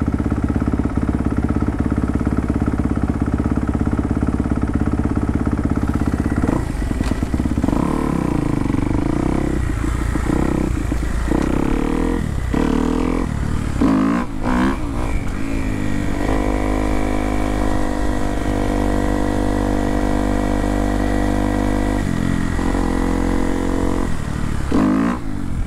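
A dirt bike engine runs close by for a long stretch, a loud steady idle broken by several sharp revs and clattering bursts before settling back.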